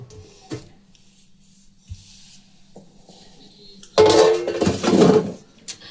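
A lid goes over a pot holding hand-kneaded chhena mixture for chhena poda: a few light metallic clinks in a quiet room, then a loud burst of rattling metal clatter near the end.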